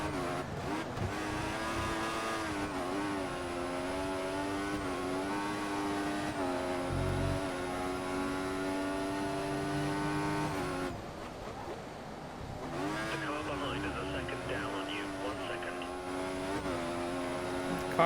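A Formula One race car engine in the video game F1 2014 screams at high revs throughout, climbing through gears with brief shift dips and one longer lift off the throttle, loud and steady with no talk.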